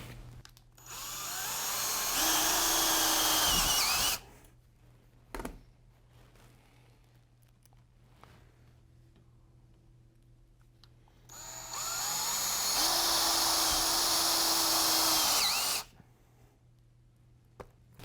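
A power drill drives screws into toy dinosaur pieces in two loud, close whirring bursts of about three to four seconds each, separated by quiet handling and a few small clicks.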